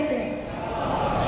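A crowd at a religious gathering raises a loud, sustained chant of slogans, a dense wall of many voices with no gaps over the short stretch.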